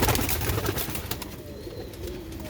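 Sialkoti rooftop pigeon chicks coo softly nearby, a close, continuous murmuring that gradually fades a little.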